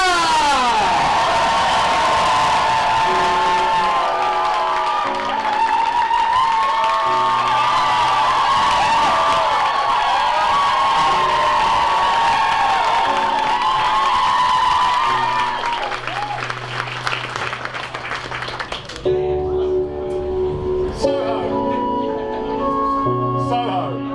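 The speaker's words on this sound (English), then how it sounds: "Please come on, show a lot of love, make a lot of noise, and welcome to the stage, Nemia!" A crowd cheers, whoops and applauds at a live stage competition final as a performer walks on, loud and sustained, with music entering and taking over near the end.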